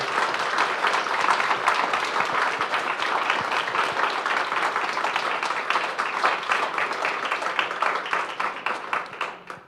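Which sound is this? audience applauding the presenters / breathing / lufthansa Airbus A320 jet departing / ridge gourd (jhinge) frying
audience applauding the presenters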